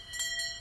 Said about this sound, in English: There's the bell now.